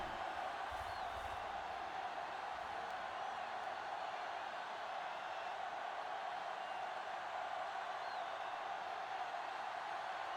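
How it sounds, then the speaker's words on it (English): A broad, steady hum of a stadium football crowd lingers for several seconds after a sack in a Trash Pandas vs. Stoats game, fairly distant and even, with no standout shouts or speech. "Crowd really loving that one."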